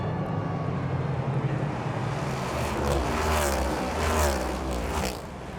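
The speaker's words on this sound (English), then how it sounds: "Down the front stretch they come for the first time." NASCAR Cup Series cars race down the front stretch of the Chicago street circuit at Grant Park, a loud continuous engine roar with rising and falling pitch that swells as the pack passes, then eases slightly at the end.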